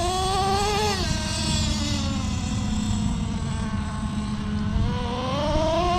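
A Traxxas T-Maxx 3.3 nitro RC monster truck engine runs steadily at a high, buzzing whine with slight rises and falls in pitch, loud and continuous with no talk.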